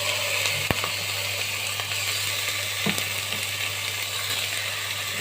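Lamb meat and bones sear in a dry pot for Egyptian fatta, with a loud, steady, close sizzle and a sharp knock early on.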